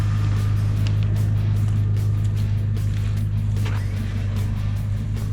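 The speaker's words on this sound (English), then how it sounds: "That's the hardest that winch has ever worked." A geared winch straining to pull a vehicle in a tough recovery, giving a loud, steady, low mechanical drone with a constant pitch that continues unbroken throughout.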